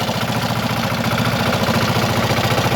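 A small screw chipper engine runs steadily up close, a loud continuous mechanical drone with a fast rhythmic chug and no voices.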